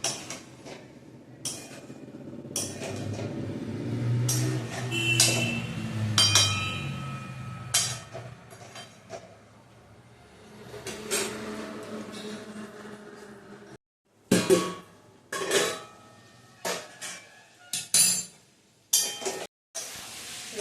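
A lid clinks onto a pan of chili chicken as it is covered, after a stretch of frying hiss, with sharp metallic clinks and knocks clustered near the end and no talk.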